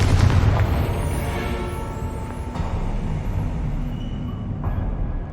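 A Confringo explosion spell in Hogwarts Legacy bursts with a loud, heavy boom at the start, followed by a long rumbling roar that slowly settles.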